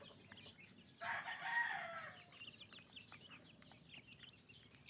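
Young chicks peck at leaves spread in their pen, with a dense burst of high chirping between one and two seconds, then scattered lighter peeps over a steady low background.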